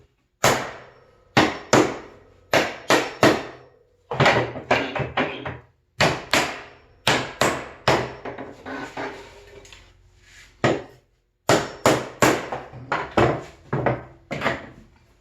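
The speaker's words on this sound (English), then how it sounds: "grab a hammer and kick the nails out." Sharp hammer blows strike nails free from a wooden pallet during disassembly, landing in quick bursts of three to five knocks separated by short pauses, close and loud with no talking.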